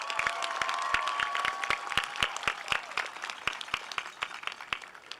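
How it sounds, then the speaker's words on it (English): A graduation audience at a public high school ceremony breaks into applause, sharp individual claps ringing out steadily over a softer crowd wash and slowly thinning toward the end. "Give them a round of applause."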